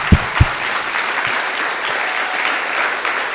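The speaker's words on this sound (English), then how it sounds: "let's give them a round of applause" An audience at a Decriminalize Nature event in Oakland breaks into applause, a dense, steady wash of many hands clapping from the room, with a couple of sharp thumps near the start.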